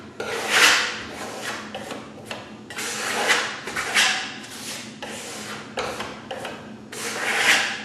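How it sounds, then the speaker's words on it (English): Steel trowel spreading Firmolux Milano plaster across a wall, repeated rasping scrapes in uneven strokes, close and fairly loud, with no voices. "we're just going to cover the whole wall using a real simple movement of your trowel"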